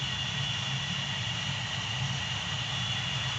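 Steady roar of an F100 jet engine run up to full throttle before takeoff in the game Gunship 3, a constant broadband rush with a bright high whine, loud and unbroken throughout.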